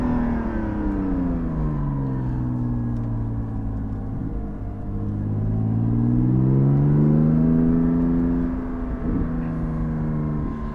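Cabin sound of a Porsche 718 GT4 fitted with a Soul exhaust, driven in sport mode. The engine drones continuously, with revs dipping and then sweeping back up in smooth waves. No one talks over it.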